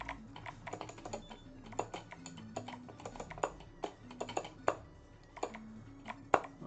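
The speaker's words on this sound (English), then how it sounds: "I hope you can listen to the beautiful sounds of the keys. They sound very quick, very clicky, very good." Rapid, crisp clicky keystrokes on an 8BitDo NES Retro mechanical keyboard, heard up close and alone, with irregular bursts of typing and sharper accented key hits throughout.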